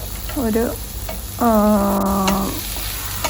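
Vegetables stir-frying in a pan for Schezwan fried rice give a steady sizzling hiss, with a brief voice and a drawn-out tonal hum rising over it partway through.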